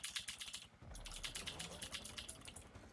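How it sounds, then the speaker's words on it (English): Computer keyboard typing comes through faint and fast, a dense patter of clicks that runs on without pause. "Keyboard makes sexy sounds."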